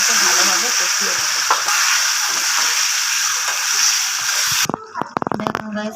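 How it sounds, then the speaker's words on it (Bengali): Spice paste sizzles loudly and steadily as it fries in oil with potatoes, heard up close, then cuts to a quieter stretch of clinks and stirring scrapes. "দিয়ে আমি এবার মশলাটাকে ভালোভাবে কষিয়ে নেব।"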